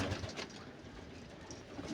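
Giribaz pigeons cooing softly in a continuous low, murmuring drone, fairly faint and steady, with no talking over it.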